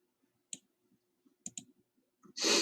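A computer mouse gives a few close, quiet clicks, including a quick double click, against a near-silent background, and a short burst of louder noise follows at the end.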